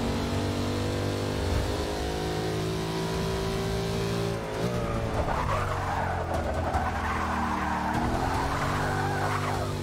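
In Forza Motorsport 7, a Dodge Viper's engine drones loudly and steadily before its tires break into a sustained wavering squeal of understeer through a corner, with no voices.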